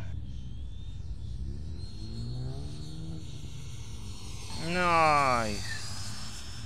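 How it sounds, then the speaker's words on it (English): An FMS 80mm EDF RC jet makes a low flyby, its ducted-fan whine swelling loudly as it passes close and then fading, while someone speaks briefly. "I'm gonna do a nice low flyby"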